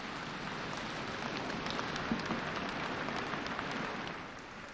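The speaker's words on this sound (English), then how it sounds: "People rejoiced the moment by giving Modi a standing ovation" A crowd gives a standing ovation at a political event, a dense, continuous wash of applause that sounds like heavy rain and holds steady before easing slightly at the end.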